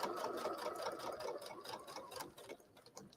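A sewing machine stitches along the straight edges of a fabric coaster at a 3.5 stitch length, a close, steady rapid whir that slows and fades toward the end, with no speech.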